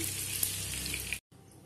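Butter and oil heating together in a pan give a soft, steady sizzle for about a second before it cuts out, with a faint hiss returning after the break.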